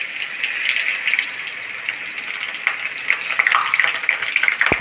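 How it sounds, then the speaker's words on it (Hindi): Spices and chili powder sizzle in hot mustard oil in a kadhai, a steady close frying hiss with light stirring scrapes and small crackling pops throughout. "इधर कढ़ाई में डाल दिया है सरसों का तेल, गरम मिर्च पाउडर"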